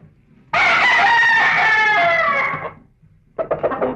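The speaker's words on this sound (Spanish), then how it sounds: "A ver, ¿qué tiene de tan notable ese gallo?" A rooster crows once, loud and close, in a long sustained cock-a-doodle-doo, then a short burst of clucking follows after a brief pause.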